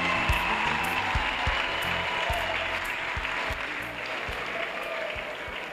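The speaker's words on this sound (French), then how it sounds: "Let's clap for them." An audience at an evangelistic crusade gathering applauds the musicians, with sustained, fairly loud clapping and rhythmic thumps of a beat running underneath for several seconds.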